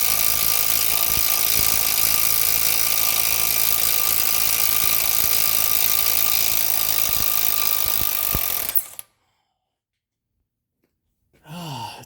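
An impact wrench and hammer work on an outer tie rod end nut of a 2010 Volkswagen Jetta TDI: a loud, continuous mechanical rattling whir with sharp knocks runs for several seconds, then cuts to silence before a brief noise returns.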